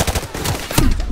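Gunfire in the video game Call of Duty: Modern Warfare Remastered, a brief burst of dense overlapping shots and explosions, loud and close, lasting about a second.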